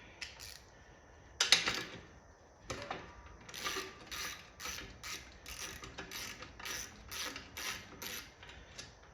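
A ratchet removes nuts from carriage bolts on a Pole Position arcade machine under restoration. A sharp metallic clank comes early, then close, rapid bursts of clicking repeat steadily in short strokes.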